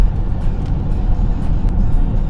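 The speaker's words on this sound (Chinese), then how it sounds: "好，开始加速了，一气呵成啊" A Voyah Zhiyin electric car accelerates on a highway to overtake, heard from inside as a steady road and tyre roar with a low hum rising slightly, and no talk.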